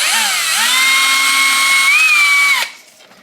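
A power drill bores a hole through the wall of a house, a loud, close whine that holds steady, rises slightly in pitch, then cuts off abruptly, leaving near quiet.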